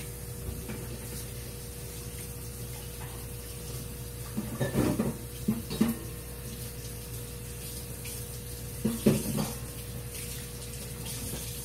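Tap water runs steadily into a sink during soap making, with two louder bursts of splashing as something is rinsed off under the stream.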